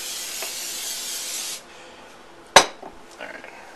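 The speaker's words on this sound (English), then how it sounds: "I'm going to spray it down with some non-stick spray real quick" Non-stick cooking spray released from a can in a continuous close hiss lasting about a second and a half, followed by a sharp clink of a pan and light kitchen handling.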